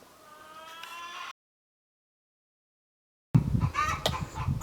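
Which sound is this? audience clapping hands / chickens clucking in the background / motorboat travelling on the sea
chickens clucking in the background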